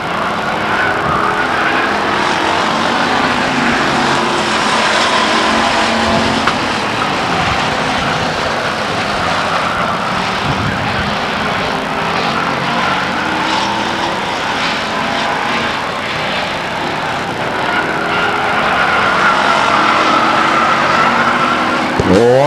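Race cars circling the oval at Stockton 99 Speedway, a loud, sustained engine roar swelling and fading as the pack passes, continuous for the whole stretch with a few faint voices underneath.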